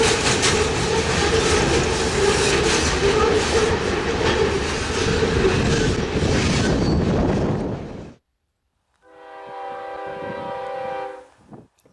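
A CN freight train rumbles loudly past a crossing on Range Road 240 south of Three Hills, steady roaring wheel noise for about eight seconds, then after a sudden cut a loud, sustained multi-tone horn blast, no talking.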